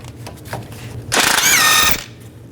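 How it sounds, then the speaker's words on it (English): A power tool with a 17mm socket whirs briefly in a loud burst of about a second, removing a nut on a 2016-20 Kia Sorento outer tie rod, preceded by faint clicks and handling noises. "Take this nut off, use a 17mm socket."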